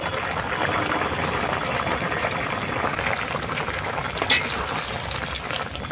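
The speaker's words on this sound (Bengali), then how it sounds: "ঝোল খুব সুন্দরভাবে ফুটে গেছে।" Crab curry gravy boils steadily in a pot, giving a loud, continuous bubbling hiss with one brief sharp clink partway through.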